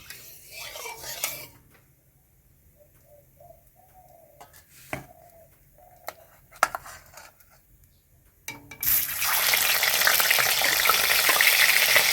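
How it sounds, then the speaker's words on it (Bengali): Rohu fish rubbed with salt and turmeric frying in oil in a wok: a quiet stretch with a few utensil clinks and taps, then a loud, close, continuous sizzle that fills the last few seconds. "মাছগুলো ভাজা হয়ে গেছে"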